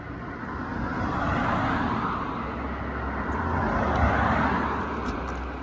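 A car passes on a nearby road in a backyard, its broad steady roadway rumble swelling gently and then easing, continuous throughout with no talk over it.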